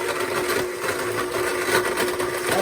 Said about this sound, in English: I'm using a Blendtec because it's like my favorite blender